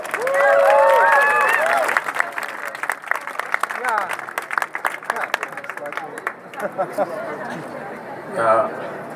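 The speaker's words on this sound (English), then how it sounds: "Give him a big applause." Applause and cheering from a crowd at an outdoor refugee-welcome demonstration on Dam Square, loud for the first couple of seconds and then breaking into scattered claps and crowd chatter, with people talking throughout.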